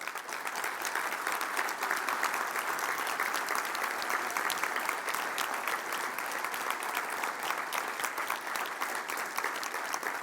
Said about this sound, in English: All my captains, give these guys some applause.